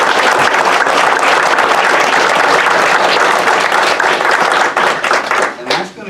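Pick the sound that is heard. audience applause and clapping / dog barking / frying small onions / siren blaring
audience applause and clapping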